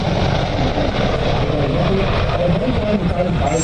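A US-built military helicopter deployed near the border roars loudly and continuously with dense engine and rotor noise, while a voice speaks over it.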